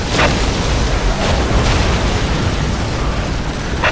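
Whirlwind artillery tank shells bursting in Dawn of War, a sustained dense roar of overlapping blasts with a few sharper cracks standing out, loud and continuous throughout.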